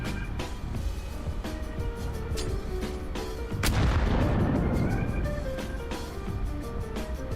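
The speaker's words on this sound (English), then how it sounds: "That was a smaller explosion than I was expecting." A sudden broad explosion bursts out midway through a video game world, rumbling and decaying over several seconds on top of a busy game soundscape with music-like tones and clicks.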